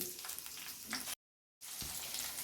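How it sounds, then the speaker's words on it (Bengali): Green peas fry in a pan with cashews and raisins, giving a close, steady sizzle broken by one short silent gap before the sizzling resumes. "আমি এই যে মটরশুঁটিগুলো দিয়ে দিচ্ছি"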